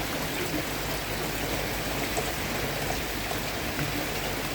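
Heavy rain pouring down outdoors beside a fish bucket, a dense, steady hiss of drops drumming on surfaces and water, loud and unbroken throughout with no voices.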